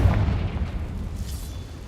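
A deep, rumbling blast from the Confringo fire spell in the Hogwarts Legacy video game booms loudly at the start and then rolls away into a fading low roar.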